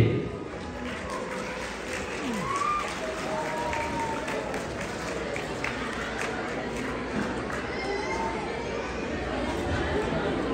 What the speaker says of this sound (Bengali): আমরা সবাই করতালি দিই।